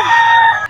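A rooster at a Philippine gamefowl holiday sale crows once, loud and close, a strained sustained call lasting most of the moment before cutting off.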